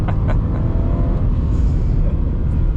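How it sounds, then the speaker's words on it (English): A 2023 Subaru BRZ does a burnout on a dirt road, its engine rumbling loudly and steadily, heard from inside the car with no talk. "A little burnout."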